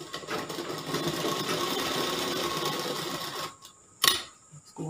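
A sewing machine stitches a straight seam on a folded four-inch belt strip for a gown, running steadily for over three seconds before stopping, followed by a sharp click and a brief mechanical clatter.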